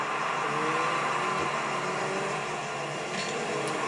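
Cars in the Rocket League video game on PS4 whir and rev in a constant engine drone that fills the whole stretch at an even level, with no talk.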